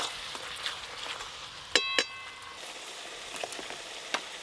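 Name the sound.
fish curry spice paste frying in oil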